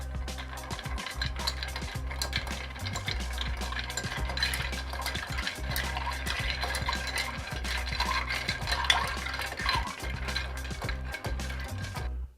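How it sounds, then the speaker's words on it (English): A gin cocktail is stirred with ice in a mixing glass, giving a continuous rapid clinking and rattling of ice against glass and a bar spoon, with a steady low hum underneath. "Give that a stir."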